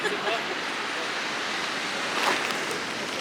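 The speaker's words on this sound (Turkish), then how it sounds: "Sahilde. Çok güzel esiyor. Dalga var." Sea waves washing onto a beach while wind blows steadily, a continuous broadband rush of surf that swells slightly near the end, close and fairly loud with no talking.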